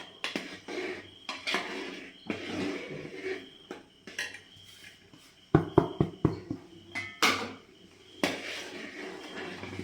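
Tamarind pickle with jaggery, sesame and urad dal being stirred in a pan, heard as a series of irregular metallic scrapes and clinks from a spoon against the pan, close and uneven in rhythm.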